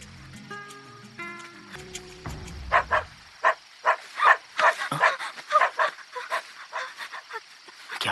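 A dog barks repeatedly in quick, uneven bursts, loud and close, after a few seconds of musical tones from a Hindi-dubbed film soundtrack.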